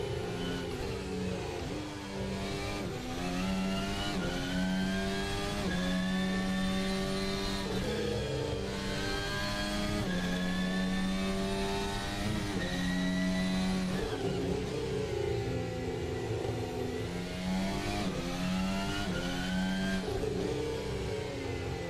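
An F1 race car engine in a racing video game revs high and rises and falls through gear changes on an out lap, a loud, sustained whine with no talking.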